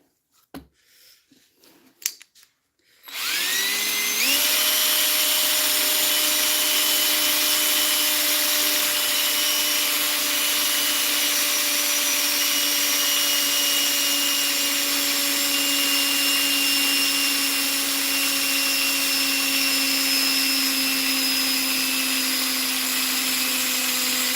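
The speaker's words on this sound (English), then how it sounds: "Feel like my drill trying to give up the ghost." A few faint clicks and knocks, then a struggling, worn-out power drill whirs up to a steady high-pitched whine and runs continuously, loud and close, with a slight droop in pitch.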